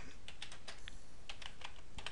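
Typing on a computer keyboard while entering code, a steady run of quick, light key clicks with irregular rhythm, close and alone with no talking.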